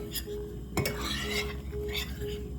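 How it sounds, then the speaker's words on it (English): A whisk stirring a cornstarch and flour mixture in a bowl, with a steady scraping swish, a short sharp clink near the start, and a low background hum. "I'm using my whisk so I can whisk it up, so I can get it all together"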